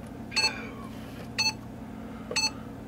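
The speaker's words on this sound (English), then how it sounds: "So when it's warmed up, you get that little beep" An Android breathalyzer prototype gives a short electronic warm-up beep, repeated three times at roughly one-second intervals, each a quick double-pulsed chirp heard clearly over a low steady background hum.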